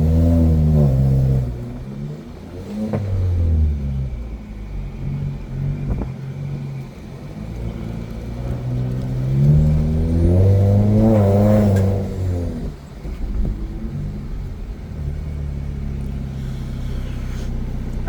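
A Jaguar XE with a sport exhaust revs hard and loud, with several rising and falling roars and a deep burbling idle between the blips, close and alone with no talk.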